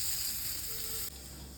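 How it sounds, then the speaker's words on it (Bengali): Pieces of pointed gourd fry in hot oil in a pan while being stirred, giving a steady close sizzling hiss that drops slightly in level partway through the short stretch. "পটলটা যখন নেড়ে চেড়ে ভেজে নিচ্ছি"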